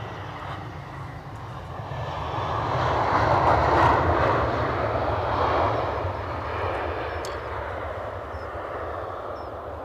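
Airliner jet engines at a windy Edinburgh Airport make a steady, broad roar that swells to a peak midway and then slowly eases off, with constant wind noise underneath and no voices.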